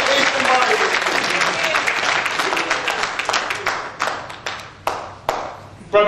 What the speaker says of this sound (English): I need a little more loud clapping for Vacation Bible School.